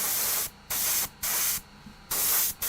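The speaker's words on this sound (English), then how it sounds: "I'm spraying at about 35 psi out of a chonky airbrush" Airbrush spraying Stynylrez black primer at about 35 psi hisses in four steady bursts separated by short pauses, close and fairly loud, with no talking.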